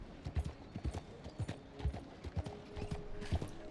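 Horse hooves clip-clop at a steady walking pace on a street in Red Dead Redemption 2, close and rhythmic, with faint creaking tack and soft background ambience.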